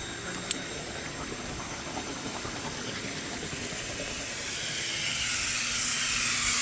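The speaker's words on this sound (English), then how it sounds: "So we're going to let this heater blow out a little bit." Compressed air rushes through a pool heater as the pool is winterized, a steady loud hiss that swells slightly toward the end, with one brief click near the start.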